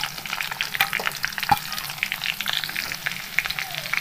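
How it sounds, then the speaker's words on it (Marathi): Large onion slices fry in hot oil in a home kitchen, a steady soft sizzle broken by repeated scraping stirs, quiet and close, with no one talking. "कांदा पण छान असा लाल सर रंग येईपर्यंत तळून घ्यायचं तेलामध्ये।"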